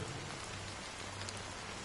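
Steady rain pours down in the video game Honkai: Star Rail, a dense, even hiss of drops falling on surfaces with no voices over it.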